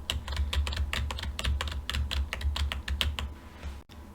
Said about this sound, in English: And now I'm going to be starting typing it.